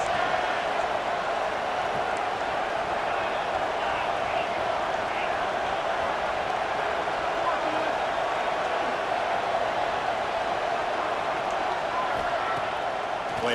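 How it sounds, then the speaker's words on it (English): A football stadium crowd roars steadily for the home defense during a college game against Syracuse, a broad, sustained wash of cheering noise with a commentator talking over it. "And this crowd coming to life here, trying to help the defense get a stop."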